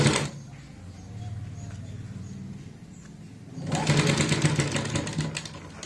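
A sewing machine stitches a high-neck collar on a kurti, whirring steadily in two runs, a softer one first and a louder faster burst near the end, close by.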